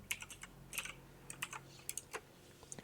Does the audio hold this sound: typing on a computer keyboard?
yes